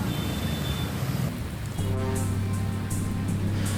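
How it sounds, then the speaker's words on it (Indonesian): Heavy rain pours steadily over Jakarta, a dense continuous hiss that swells partway through, with a low rumbling drone beneath it, loud and close throughout. "Hujan yang mengguyur Jakarta sejak siang"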